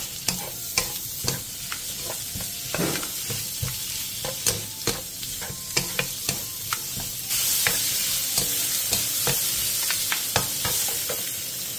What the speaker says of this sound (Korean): 팬에 기름을 두른 뒤 오이와 다진 마늘 반 스푼을 넣고 센 불에서 3분에서 5분간 볶아주세요